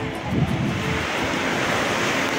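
Sea surf washing onto the shore at Dinadiawan, Dipaculao, Aurora, a steady broadband roar with wind buffeting the microphone throughout.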